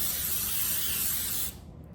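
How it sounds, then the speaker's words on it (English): A short, steady hiss of non-stick cooking spray from an aerosol can lasts about a second and a half, then stops. "I'm gonna spray just a little bit with some non-stick cooking spray."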